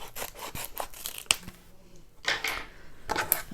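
Scissors snipping and rubbing through the plastic packaging of a Diamond Art Club painting kit, a series of close, quiet cuts and crinkles with short pauses between them.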